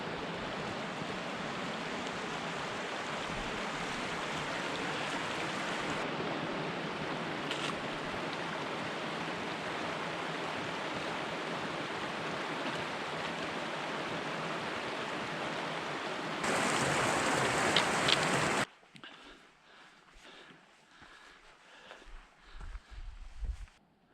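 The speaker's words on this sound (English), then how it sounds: "You can see the creek we're about to cross over to our right." A mountain creek rushing beside a hiking trail on the Colorado Trail near Cottonwood Pass, a steady broad wash of flowing water, fairly close and continuous, with no talk, briefly louder before cutting to quieter trail sounds.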